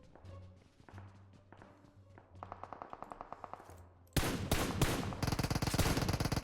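Automatic weapon fire in a PUBG Mobile firefight, first distant with faint footsteps, then sudden loud close bursts of rapid shots in quick succession.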